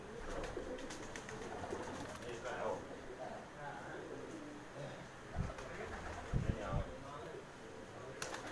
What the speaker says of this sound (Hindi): 4-5 कबूतर आए हैं जी